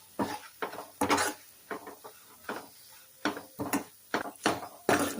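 A metal spoon stirs tomato rasam spices in a cooking pot, tapping and scraping against the sides in a close, irregular string of clinks and knocks.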